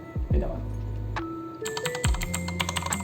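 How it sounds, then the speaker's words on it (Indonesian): Typing on a Vortex Series VX 7 Pro TKL mechanical keyboard, a close, rapid run of crisp clacking keystrokes with a low hum and swooping tones underneath. "gue pengen langsung pakai keyboard ini untuk ngetik apapun itulah"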